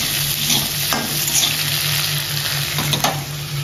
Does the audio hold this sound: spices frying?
yes